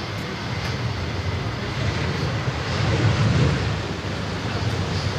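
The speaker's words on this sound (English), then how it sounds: "Qantas 73 just getting up" Qantas flight 73 climbs away from Sydney Airport, its engines a steady, moderately distant rumble and hiss that builds slightly midway before easing off.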